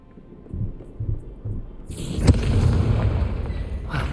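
Spell explosions from Bombarda and Confringo cast in the Hogwarts Legacy video game, inside a haunted Hogsmeade shop: a few soft thuds give way to a sharp blast and a loud, rumbling roar that lingers with a bright hiss.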